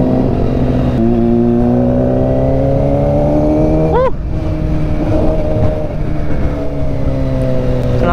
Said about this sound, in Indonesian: Knalpotnya tuh suaranya serem banget ya.